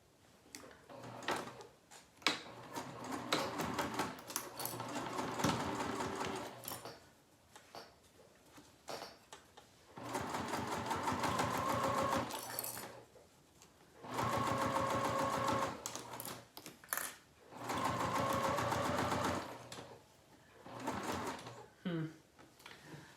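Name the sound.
sewing machine stitching a seam on a Devon pouch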